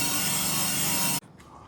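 Tape is scraped and rubbed off a metal pipe in a loud, continuous abrasive scrubbing that stops abruptly after about a second, leaving quieter faint rustling.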